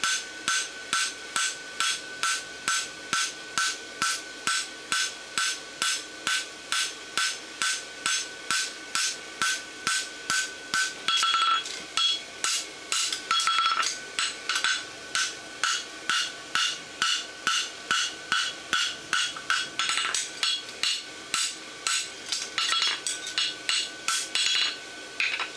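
Steady, rapid hammer blows ring out on hot steel while a bar shoe is forged with a lateral extension, the strikes falling in an even rhythm, close and loud, with brief pauses and no talking.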